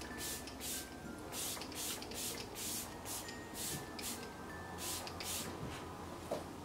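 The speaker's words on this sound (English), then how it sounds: "And then I'm going to use my Glam Glow Glow Setter Setting Spray." Glam Glow Glow Setter setting spray goes off in a quick run of about a dozen short, fine-mist pumps, close and crisp, with faint background noise between bursts.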